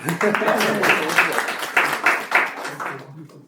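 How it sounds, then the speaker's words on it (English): Audience applause at a PUHSD school district board meeting: a steady wash of clapping for about three seconds, fairly close and moderately loud, with voices talking over it before it fades out near the end. "we can clap"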